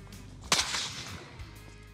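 Single sharp crack of a CCI Velocitor hyper velocity .22 rimfire round being fired outdoors, loud and abrupt with a short decaying tail, no talk.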